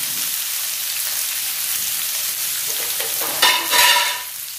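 Carrots stir-frying in hot oil in a pan for a vegetarian noodle dish: a loud, steady close sizzle, with a brief burst of louder scraping and stirring near the end and no talking.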